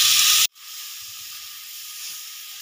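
Carrots go into a pan of hot ghee with fried cashews and raisins for carrot halwa, giving a loud burst of hissing sizzle that cuts off abruptly and settles into a faint, steady hiss.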